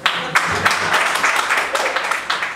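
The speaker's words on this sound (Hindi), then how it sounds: "उसके लिए ताली बजाना एक बार" Audience clapping at an open mic in Jabalpur, a loud, close burst of hand claps sustained for a couple of seconds.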